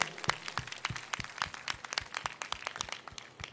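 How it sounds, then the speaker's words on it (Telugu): Church congregation clapping loudly during a homily, a dense run of sharp, rhythmic handclaps close by, steady throughout with no talking. "ఆనందిస్తూ ఉన్నారు అంటానికి సంకేతంగా గట్టిగా చప్పట్లు"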